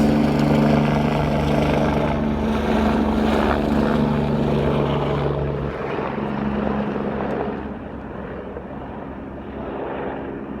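A medical helicopter lifts off from a bush site and flies away toward Edmonton, a loud steady rotor and engine drone with a tonal hum that gradually fades as it recedes, no talking.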